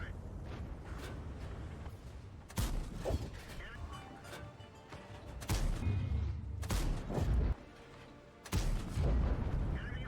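Repeated heavy tank cannon blasts from World of Tanks boom at irregular intervals over a steady mechanical rumble, with a voice talking throughout.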